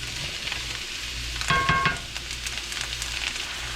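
Vegetables cooking down in a pot for okra stew, a steady soft sizzle with stirring scrapes and a brief clatter of utensil against the pot near the middle.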